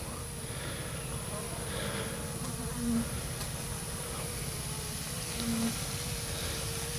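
Honeybees buzzing around a swarm trap, a steady close insect drone with a faint higher whine and two brief louder buzzes, as from bees flying past, with no speech over it.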